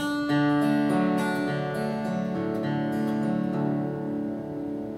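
Individually fingerpicked acoustic guitar notes follow one another in a gentle, unhurried sequence, each ringing into the next, with no talking.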